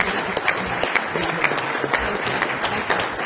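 An audience at a family planning conference in Nigeria breaks into brisk, steady applause, many hands clapping loudly and close for the whole stretch, with a voice briefly heard over it.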